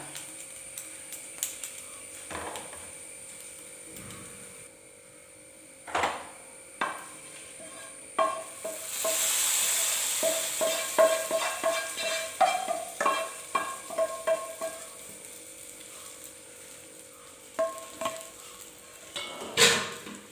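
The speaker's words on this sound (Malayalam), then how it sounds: "തേങ്ങ ഇവിടെ ഒരു ഗോൾഡൻ കളറായി വന്നിട്ടുണ്ട് ഇത്രയും മൂത്താൽ മതി ഇനി നമുക്കിത് കറിയിലേക്ക് ചേർക്കാം" Golden fried coconut is added and stirred into a pumpkin and cowpea erissery curry in a pan. Repeated close scraping and stirring taps of a spoon against the pan run over a soft sizzle, with busier, louder stirring midway.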